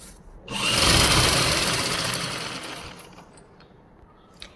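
A sewing machine runs a seam along folded salwar cloth, a single whirring burst that starts sharply, then slowly tapers into quiet handling noise.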